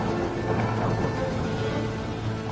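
A steady, dense downpour of rain hisses throughout, with a low rumble of thunder rolling beneath it for a few seconds. No voices are heard.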